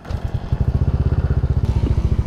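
A motorcycle engine fires up again after a sensor fault and idles with a fast, even, chugging throb. It sounds loud and close, with a brief clatter in the middle and no talking.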